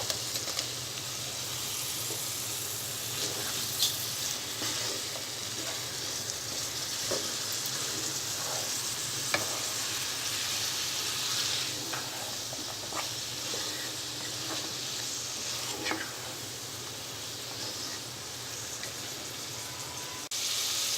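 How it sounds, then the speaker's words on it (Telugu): Carrot and cauliflower pieces sizzle and fry with tomato in a pan for baby corn biryani, a steady close hiss running throughout with occasional faint stirring clicks and no talking. "టమాటో ముక్కలు ఫ్రై అయిన తర్వాత క్యారెట్ ముక్కలు, క్యాలీఫ్లవర్ వేసుకోవాలి."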